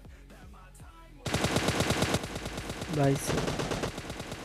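Rapid automatic gunfire in PUBG Mobile erupts after a quiet start and keeps going in loud, dense bursts, with a short spoken exclamation near the beginning.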